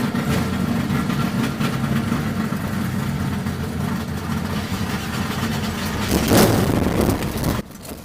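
Race car engine making a pass after its ignition timing was advanced from 24 to 34 degrees, a loud steady drone heard up close throughout, rising briefly in intensity near the end before cutting off abruptly.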